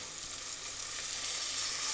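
Onions sautéing in a pan for a bottle gourd gravy give a soft, even, continuous sizzle, low in level and unbroken, with no voices.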